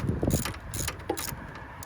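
A ratchet wrench loosens a battery terminal on a 2020 GMC Sierra Denali, giving a few quick bursts of clicking pawl ratcheting and metallic clinks, close and fairly loud, with short pauses between strokes.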